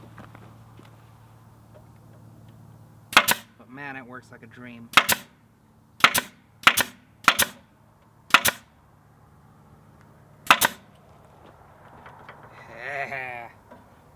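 A brad nailer drives brad nails into wood for a camping car drawer build, seven sharp loud snaps spaced irregularly, with brief talking between shots and a quiet background.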